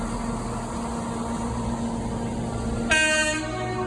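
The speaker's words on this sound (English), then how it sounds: "coming in now is a terminating London North Western Railway from London Euston" A London Northwestern Railway passenger train from London Euston rumbles into Birmingham New Street station with a steady low drone, then gives a brief, loud horn blast near the end.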